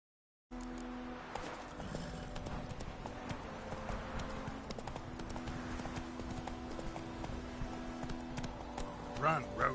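A horse gallops in The Witcher 3 video game, with quick, rhythmic hoofbeats thudding steadily and close up. Game ambience sits underneath, and a brief whinny or burst rises near the end.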